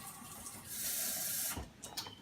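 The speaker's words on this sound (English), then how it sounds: "you can pour them in the blender and pour water" Water pours into a blender of cut cauliflower as a steady hissing splash that swells, then breaks into a few short sloshing bursts, close and moderately loud.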